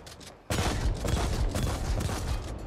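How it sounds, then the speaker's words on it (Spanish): Shotgun blasts from the video game The Ascent sound in a loud, dense burst of gunfire that starts abruptly after a short quieter stretch and stays heavy and continuous to the end. "Me está costando 3 tiros de escopeta"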